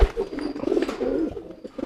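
A homing pigeon coos nearby in soft, throaty warbling bursts, repeated several times in quick succession.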